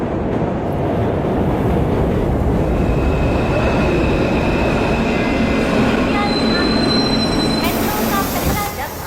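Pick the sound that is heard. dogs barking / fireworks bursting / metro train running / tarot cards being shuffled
metro train running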